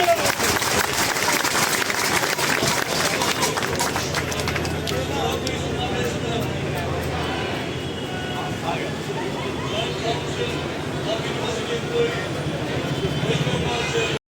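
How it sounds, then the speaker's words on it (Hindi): Crowd applause at a student political gathering, a loud continuous roar of clapping and crowd noise that persists throughout, with voices mixed into the din. "जोरदार तालियां साथियों।"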